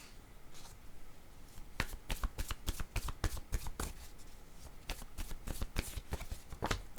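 Tarot cards are shuffled and drawn up close, with a rapid run of crisp riffling snaps and slaps coming in uneven bursts after a quieter start.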